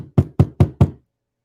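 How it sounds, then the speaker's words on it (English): Five firm knocks on a door sound in an even, quick rhythm, close and loud, then stop and leave silence. "Let me stop before he come knocking at the door."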